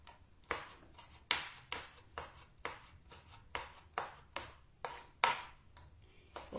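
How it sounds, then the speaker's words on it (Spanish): A knife chops steak for tacos al pastor on a cutting board in a steady, unhurried rhythm of a dozen or so crisp, close thuds, with no talking. "vamos a picar acá"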